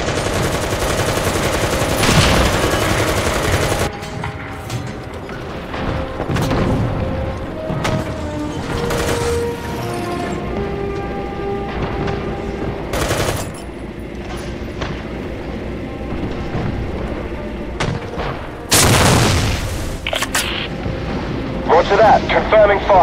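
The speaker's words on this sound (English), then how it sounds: "Artillery, fire!" Artillery fire in the War Thunder video game: loud, broadband blasts repeat at irregular intervals among mechanical rumble and rapid gunfire, with voices talking at times.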